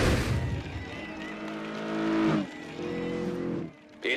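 Racing cars on the final lap in Forza Horizon 2, a Dodge Charger against a Maserati: engines roar and rev up, with a tyre squeal and a passing whoosh, heard at moderate volume.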